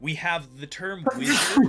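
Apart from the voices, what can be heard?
sneeze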